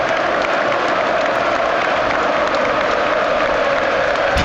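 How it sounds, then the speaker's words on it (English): A stadium crowd at a Newcastle United v Arsenal League Cup semi-final applauds a substituted football player, steady loud clapping and crowd noise filling the whole stretch without a break. "gets applauded off by Bruno."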